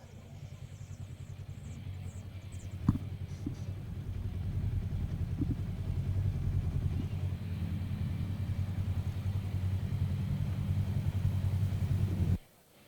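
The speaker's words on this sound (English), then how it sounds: "Push trucks taking their spots and getting ready to push these cars off for the biggest race of the year." Push trucks idle and creep into position behind sprint cars at the Canadian Sprint Car Nationals, a steady low engine rumble with a faint sharp knock early on, continuous and fairly close until it cuts off abruptly at the end.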